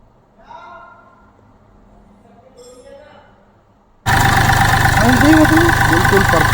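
A Mahindra Bolero Power Plus three-cylinder engine with a knocking fault runs steadily and loudly at idle, cutting in abruptly after a quiet stretch with faint voices.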